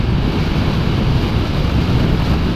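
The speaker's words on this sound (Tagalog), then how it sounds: "Lakas lang ng hangin" Strong wind roars into the microphone on a solo ride on a Honda Click 125i scooter along a straight road in Mindanao, a steady, loud, low rushing buffet with no voices.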